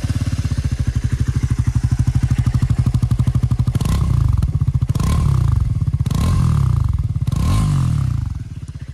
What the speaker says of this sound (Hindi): मैं आप लोगों को एग्जॉस्ट नोट सुना देता हूँ मैं यहाँ पे इसको स्टार्ट करके